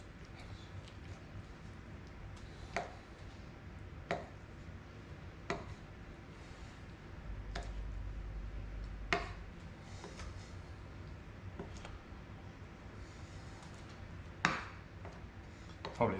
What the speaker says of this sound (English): we'll just chop him into bite-sized chunks